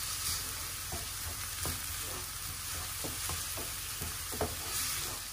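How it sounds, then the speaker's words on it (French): Chopped onion and minced garlic clove sautéing in a pan give a steady, close sizzle with a few soft scrapes of stirring, no voices. "Je fais revenir l'ail avec l'oignon haché."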